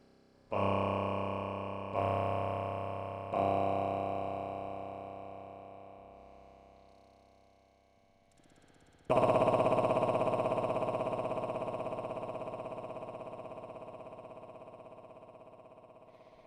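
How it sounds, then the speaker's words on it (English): Short feedback delay repeats build into pitched, buzzy tones set about three octaves below middle C. Three quick struck bursts each fade, then a louder burst rings out and decays slowly. "it's no longer a pitch, it's just discrete echoes"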